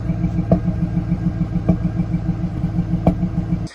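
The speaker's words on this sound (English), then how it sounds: "There's still like a slight miss in the engine." Engine of a 1998 Pontiac Trans Am running with a slight misfire, a steady close mechanical idle with a regular pulsing rhythm broken by a few sharp irregular pops, before it cuts off at the end.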